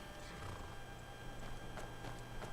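Horse at the Markarth stables in the Skyrim video game, with soft hoof clops and faint snorting over a steady low game ambience, a few brief brighter hits standing out.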